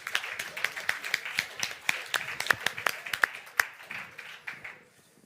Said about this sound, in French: un grand applaudissement pour vous